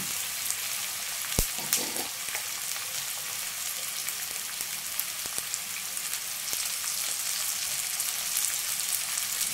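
Two large onions fry with a little salt in a pan, hissing in a steady, moderate sizzle with a few sharp clicks from the utensil and no talking.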